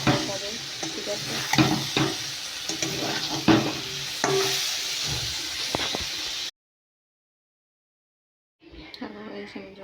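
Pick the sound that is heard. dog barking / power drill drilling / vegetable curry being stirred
vegetable curry being stirred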